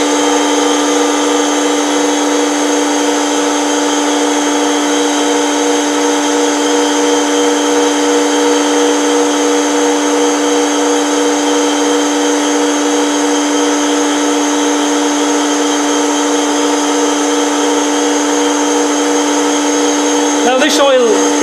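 A centrifuge cleaning contaminated oil or diesel, used oil from power steering pump testing, runs with a loud, steady machine whine and hum that stays constant and unbroken for over twenty seconds before a brief change at the end.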